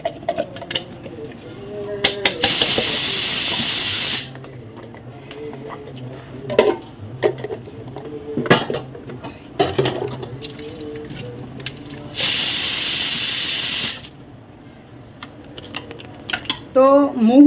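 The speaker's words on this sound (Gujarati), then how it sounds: "એક બાજુ કુકરમાં સીટીઓ વાગી રહી." A pressure cooker of potatoes blasts two long, loud hissing steam whistles, each lasting about two seconds, with someone talking and kitchen clatter in between.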